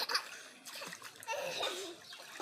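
A little girl learning to swim splashes water up close in quick, uneven bursts, with faint childish shrieks and laughter mixed in.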